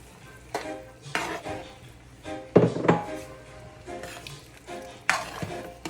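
A spoon stirring liquid in a pot for Jamaican coconut dumplings with pumpkin, heard as intermittent scrapes and knocks against the pot every second or so over a faint simmering hiss, close.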